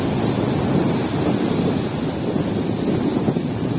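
Ocean surf rolls onto a seashore where fishermen launch boats, a steady broadband wash of breaking waves mixed with wind buffeting the microphone, with no voices.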